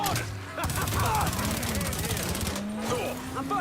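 Gunfire in the Mafia 3 video game rattles in dense, continuous bursts over loud background action and a low engine-like drone, with some speech mixed in.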